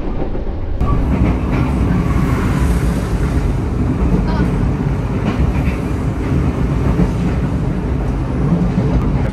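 Gajahwong executive train on the Jakarta–Yogyakarta route, a steady loud rumble of the carriage rolling on rails after a brief quiet start, with faint rhythmic clatter, continuous throughout.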